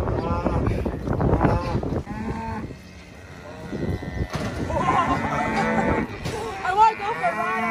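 Calves at a farm mooing loudly and repeatedly nearby, drawn-out bawling calls overlapping one another, with some sheep-like bleats and a little background voice.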